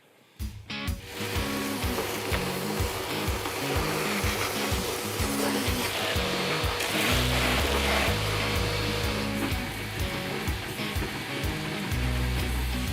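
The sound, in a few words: vacuum cleaner sucking mouse droppings from car engine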